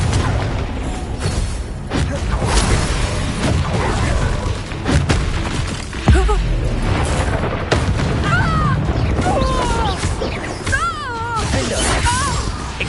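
Confringo spell explosions burst in a Harry Potter video game, booming repeatedly over dense game music and effects, while a voice calls out spell names.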